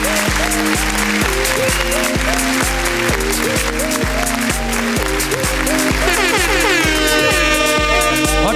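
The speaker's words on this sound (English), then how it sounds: "encourage the children with a great applause" Parents applaud at a school sports day, a steady wash of clapping that runs under loud, rhythmic music with a horn-like tone.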